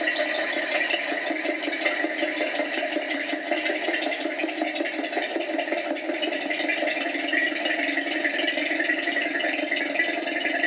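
A vacuum pump pulling air from a bell jar in a chemistry demonstration hums and whirs continuously at a moderate, steady level for the whole stretch, with no speech.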